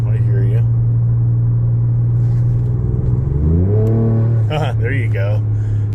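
Ford Ranger Raptor V6 exhaust idling with a steady low drone, then a rising rev that swells and settles back, loud and close, with people talking briefly over it.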